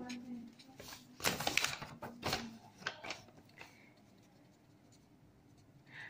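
Pen scratching across paper for a maths geometry proof, a few short bursts of writing strokes near the start and middle, close and fairly quiet, then fading to near silence.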